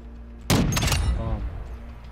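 A sniper rifle shot in Call of Duty DMZ cracks out sharp and loud, its echo decaying over about a second and a half, with a faint tail afterward.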